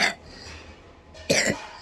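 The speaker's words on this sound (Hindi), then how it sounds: "ये इनको खांसी" Two sharp, close coughs, one at the start and another a second later, separated by a quiet breathy pause.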